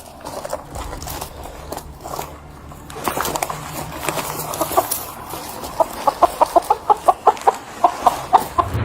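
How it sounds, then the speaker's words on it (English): A loose chicken clucking in a front yard, close and loud, with irregular clucks that settle into a fast, even series of sharp clucks toward the end. "there's a loose chicken in this front yard."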